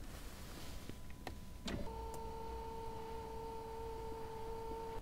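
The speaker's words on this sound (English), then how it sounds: "To enter the rear, you have to push the passenger seat forward." An electric passenger seat motor in a Maybach 57S Coupe whirs into action after a brief click, holding a steady, quiet mechanical hum as the seat travels forward, with no voices.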